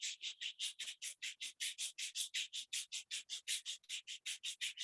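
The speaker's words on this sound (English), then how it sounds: "Rub your both palms." Two palms rub briskly together in a steady rhythm of about two dozen even, hissing strokes, close and clear with no talk over them.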